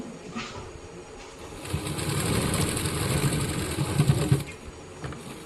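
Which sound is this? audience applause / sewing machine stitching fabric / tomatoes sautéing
sewing machine stitching fabric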